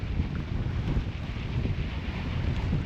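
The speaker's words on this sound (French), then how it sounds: "Oh, le vent se lève un peu plus" Steady wind buffeting the microphone outdoors on a sailboat anchored off Gustavia, Saint-Barthélemy, a constant low rumble with gusty surges and a faint wash of water beneath.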